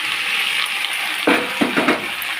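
Five-spice tempering (panch phoron) sizzling in hot oil for a mixed vegetable dish, a steady hissing crackle with a few sharper stirring clatters partway through, close and fairly loud.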